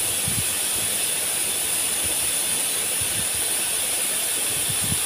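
Steady, loud hiss of a pressure cooker whistle releasing steam on a kitchen stove, continuous and unbroken throughout with a faint low rumble beneath.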